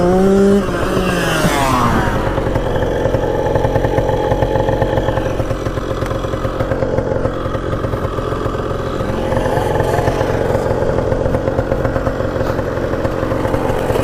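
A Yamaha MX 175 dirt bike is ridden hard while keeping pace with a newer dirt bike, its two-stroke engine revving and rasping continuously through gear changes, loud and close throughout with no talking.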